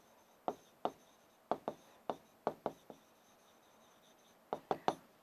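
Marker or chalk writing on a board in a classroom lesson, a series of crisp taps and short strokes in uneven bursts, close and clear, with no talk.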